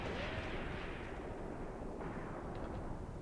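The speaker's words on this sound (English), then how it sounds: "But what is the infantry shooting at with their rifles?" Rifle fire from infantry in Graviteam Tactics, Kharkov 1942, a WWII battle: a dense, continuous rumble of distant gunfire with a few faint sharper cracks, steady and unbroken throughout.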